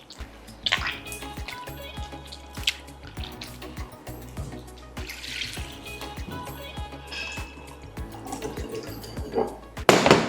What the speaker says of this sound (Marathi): आता यामध्ये पुन्हा फ्रेश पाणी आपण घालू.